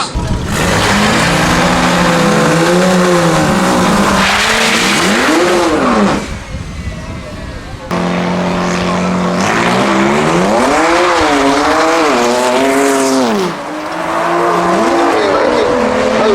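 Race cars launch hard and accelerate down a no-prep quarter-mile drag strip at Manston Raceway, engines revving loud and near with rising and falling pitch, tires squealing, one run following another.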